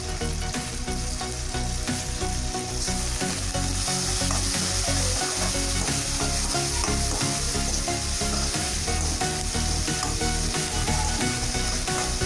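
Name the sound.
onions sautéing and sizzling in a pan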